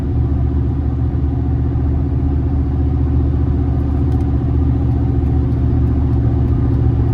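A 2004 Chevrolet Silverado regular cab with a 4.8 V8 pulls under acceleration, heard as a steady, loud, low engine drone and road rumble that continues unbroken throughout, with no talking.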